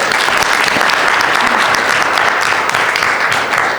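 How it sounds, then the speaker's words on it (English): Loud, dense audience applause at an international drug policy conference greets a panelist being introduced, unbroken crowd clapping from start to finish. "Please give Karen a quick round of applause."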